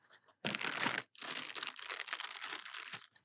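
Waterproof fabric of a headphone case crinkles and rustles up close as it is folded, in two long bursts of dense crumpling with a short pause between them.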